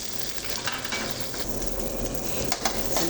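Onions sizzle in a pan with a little oil while making pineapple beef, a dense crackling hiss with a few soft stirring scrapes, steady and close throughout without talking.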